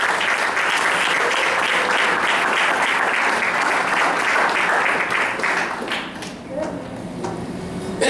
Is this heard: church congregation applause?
yes